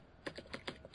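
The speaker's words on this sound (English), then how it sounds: "If you didn't have such a noisy keyboard, you could have gotten away with that." A noisy computer keyboard clacks through a quick burst of four or five sharp keystrokes, close but fairly quiet.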